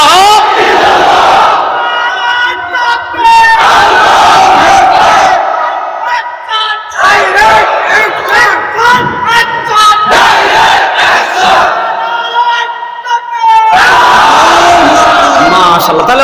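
A large crowd at a Bangladeshi Islamic sermon gathering loudly chants the slogan 'La ilaha illallah' in repeated surging bursts of massed voices, each a few seconds long with brief dips between.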